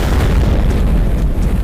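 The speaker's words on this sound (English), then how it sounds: "Explode this computer." A computer explodes in the shooter Shadow Warrior, a loud, dense low rumbling boom that fills the whole moment without a break.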